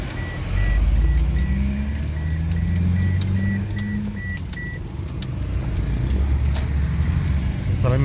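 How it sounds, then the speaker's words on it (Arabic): A Toyota Corolla cruises at 100 with the gas pedal held down, its transmission slipping between gears. A loud, steady engine and road drone fills the cabin, with a repeating electronic chime and some talk over it. "100 اهيت العربية ماشية 100 ودوسة بنزين"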